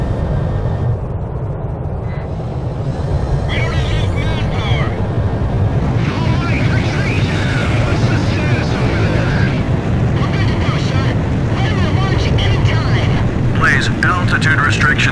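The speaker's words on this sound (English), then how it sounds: "Blaze, you are cleared for takeoff." A jet fighter roaring down the deck for takeoff in Ace Combat 5, a loud sustained engine rush with wind and sea noise, while radio voices talk over it.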